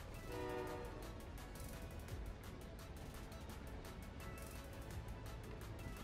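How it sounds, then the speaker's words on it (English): A passing train in the video game Warzone rumbles steadily and loudly throughout, with a continuous rolling roar and a horn-like tonal layer. "Oh, bye bye train."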